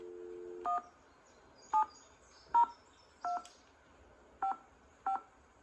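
Telephone keypad dialing in a Nancy Drew game, six separate DTMF tones spaced irregularly over a few seconds, each short and clear against near silence, after a brief steady tone at the start.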